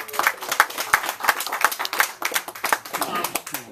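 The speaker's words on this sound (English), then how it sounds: "a big round of applause, ladies and gentlemen" An audience at a magic show claps in a brisk, irregular burst of individual hand claps, fairly close and lively, with a voice audible over the clapping.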